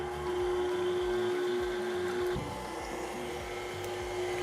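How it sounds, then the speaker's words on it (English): A stand mixer with a whisk attachment whirs steadily through cinnamon roll dough of milk, sugar, yeast, salt, butter and egg, a constant motor hum with a tonal whine that drops slightly midway. "I'm going to start mixing this with my whisk attachment."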